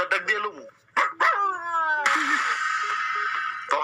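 A voice imitates a dog barking: a few short, loud, close yelps, then one long drawn-out howling cry, with no other sounds around.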